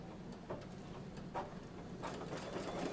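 An embroidery machine stitches a blanket stitch around a chicken's wattle, a faint, quick run of soft mechanical ticks and whirring over a low background hum.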